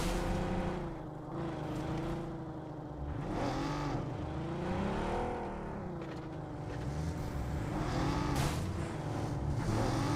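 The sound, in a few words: car engine driving in BGMI video game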